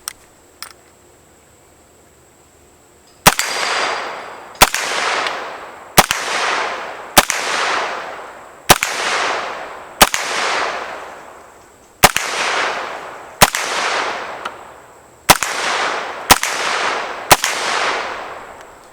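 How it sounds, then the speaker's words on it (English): About a dozen sharp gunshots, fired at a range with a rifle fitted with a Feyachi reflex sight, ring out at irregular intervals. Each shot is followed by a ringing decay as it strikes steel plates and knockdown targets, with no talking. "Let's go ahead and start hitting steel plates and those new bold knockdown targets."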